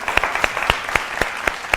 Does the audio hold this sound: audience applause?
yes